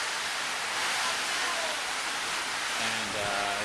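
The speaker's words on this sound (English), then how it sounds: "And it's pouring rain." Heavy rain pours at a campsite at Kings Canyon in the Australian Outback, a loud, constant hiss filling the space, with a voice speaking briefly near the end.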